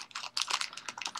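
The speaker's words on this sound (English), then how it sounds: "Is one of you guys typing now?" Rapid, uneven clatter of keys on a computer keyboard, fairly close and clear, with bursts of keystrokes and short pauses between them.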